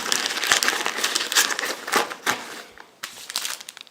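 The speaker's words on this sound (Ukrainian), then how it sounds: "в основному в передню кишеню я зазвичай складаю упаковочки з силіконом" Crinkling plastic packets of silicone fishing lures being packed into the front pocket of a Flagman waist bag, a near, continuous rustle with sharp crackles throughout, louder bursts coming in irregular clusters.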